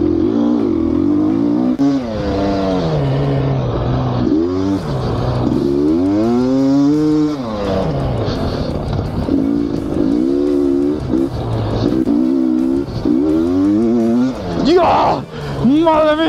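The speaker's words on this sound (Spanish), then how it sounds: "abrir gas y revolucionar una de dos tiempos" A Gas Gas two-stroke dirt bike engine revs repeatedly, its pitch swooping up and down in sharp, buzzy bursts, loud and close throughout.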